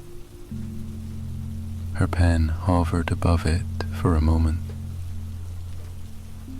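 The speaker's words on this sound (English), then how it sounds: "Only the sound of rain answered." Steady rain falling in a soft, continuous wash under a calm narrating voice, with a low hum beneath it throughout.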